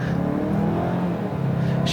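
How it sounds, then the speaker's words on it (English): A 2019 Mazda CX-5 Signature, a 2-liter turbo SUV, pulls hard from a brake-torque launch, its engine droning loud and close and rising steadily in pitch with a faint whir on top. "I'm gonna try to brake torque it a tad"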